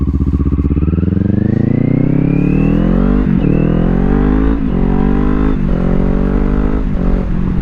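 A 2025 Kawasaki Ninja 500 motorcycle accelerates hard, its engine note climbing steadily in pitch through the gears with brief dips at each shift, loud and close with steady wind rush throughout.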